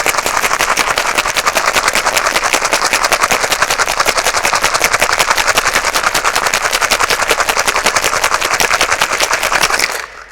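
Ice rattles hard inside a cocktail shaker as an Irish Maid cocktail with cucumber is mixed: a loud, rapid, machine-like run of regular knocks for about ten seconds before it stops abruptly.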